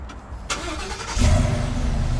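A Ford F-250 pickup's engine turns over by remote start, a short crank followed by a steady low idle rumbling close by, with no talk.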